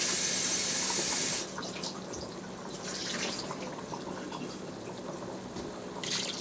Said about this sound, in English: I'm going to cover this all the way up with water